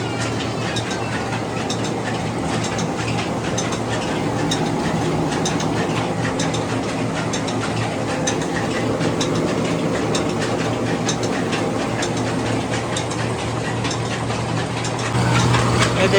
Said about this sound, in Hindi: और देखिए धान मशीन चल रही है और आटा चक्की डबल लोड चला रहा है।